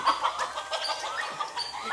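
Chickens clucking close by, a steady run of short, throaty calls with no talking.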